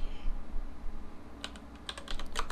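A few scattered computer keyboard keystrokes pressing shortcuts while UV unwrapping a model, soft close clicks after a quiet start.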